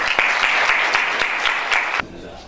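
An audience at an education conference claps steadily to welcome a speaker to the podium, a dense and fairly loud wash of applause that stops abruptly after about two seconds.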